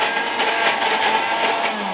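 A blender grinding mango chutney without water runs steadily for the full two seconds, a loud, dense whirring with no pauses and no voices.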